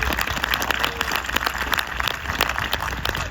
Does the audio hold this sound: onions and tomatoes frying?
no